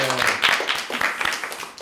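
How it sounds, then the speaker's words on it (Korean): An audience at a cultural forum on North Korean performing arts breaks into applause for the actors, a steady, even clatter of many hands spread across the room, with speech running over it. "박수 한번 줄까요?"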